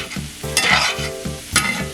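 Sweet potatoes fry in a pan on high heat, with a steady crackling sizzle and a few louder stirring scrapes, close and clear with no talking.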